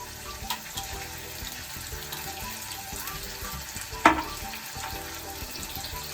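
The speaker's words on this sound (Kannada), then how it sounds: "ಈಗ ರುಬ್ಬಿರೋ ಟೊಮೆಟೊನ ಇದಕ್ಕೆ ಹಾಕ್ತಾ ಇದ್ದೀವಿ." Ground tomato paste poured into okra curry frying in a pan, a steady sizzle and bubbling running throughout with a single sharp splash or clatter near the end, no voices.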